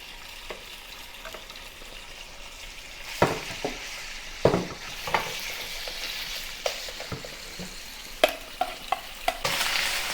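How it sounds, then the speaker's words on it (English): Beef slices pan-frying over medium heat in a hot pan for beef hor fun, a steady sizzle broken by several sharp clicks and scrapes of turning and stirring, with no talk. "Heat up the pan and put the beef on it to pan fry both sides."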